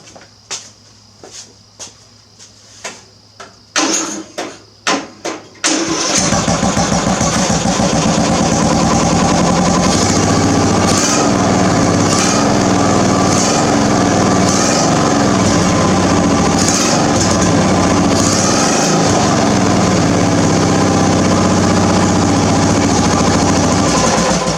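Homemade fast lawn mower engine: a few sharp pull-start sputters, then it catches and runs loud and steady, throttle fluttering with rhythmic rises through the rest.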